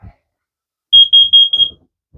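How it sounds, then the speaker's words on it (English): A carbon monoxide alarm inside a 2008 Keystone VR1 RV emits a rapid series of sharp, loud, high-pitched chirps, about five in quick succession, with soft handling thumps around them. "Carbon monoxide alarm in here as well."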